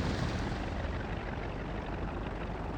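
Carrier-based plane engines in a naval combat video game, with the Saipan carrier, make a steady broadband roar that stays constant and fairly loud with no talking.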